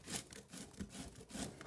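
Zucchini rubbed against a hand grater gives quiet, rhythmic scraping strokes, about four of them in a steady back-and-forth pattern, soft and close.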